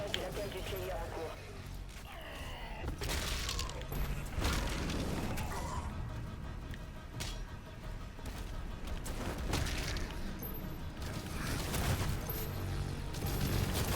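Dense continuous gunfire bursts and booms in a Doom video game, loud rattling salvos layered with explosions and mechanical noise, a voice talking over parts of it.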